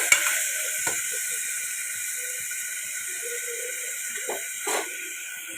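Tomatoes sprinkled with salt sizzle steadily in a hot pan, a continuous close hiss of frying with a few faint stirring knocks and clinks.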